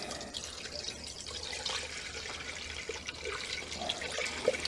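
Coolant mix pouring from a gallon jug into the cooling system of a Dodge Avenger 2.4L Dual VVT, a steady close trickling and splashing of liquid that runs without a break and grows slightly stronger near the end.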